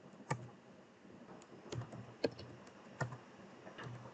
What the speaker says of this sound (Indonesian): Kita ketikkan cd backslash untuk kembali.